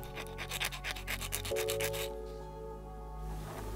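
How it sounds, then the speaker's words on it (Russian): Rasping file strokes smooth the uneven surface of a homemade silicone fishing lure, a quick series of close, rhythmic scrapes that give way to a softer, quieter rub. "Равняем неровности напильником."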